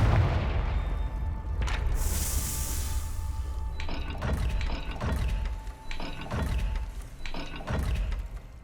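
Confringo fire spell cast in the Hogwarts Legacy video game, a burst of bright hissing blast followed by a series of rhythmic booming impacts and mechanical clanks, loud over a low rumbling background.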